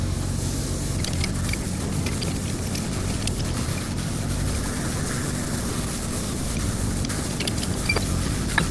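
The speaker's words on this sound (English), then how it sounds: "Now my tenant just started sandblasting, so I apologize for the noise" Continuous harsh broadband roar with a steady rushing hiss, unbroken for the whole stretch, moderately loud and somewhat distant.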